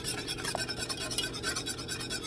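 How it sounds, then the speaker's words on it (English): A whisk scrapes rhythmically through a garlic sauce in a bowl, a steady close swishing rub that repeats quickly throughout with no voices. "I'm gonna see if I can whisk this real smooth"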